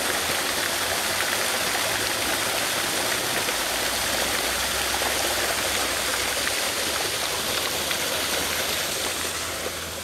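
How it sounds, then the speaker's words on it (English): A creek flooded with rainwater after a storm rushes past in a steady, loud, broadband roar that runs unbroken throughout, with no voices. "let's go over here and let's watch all this rainwater."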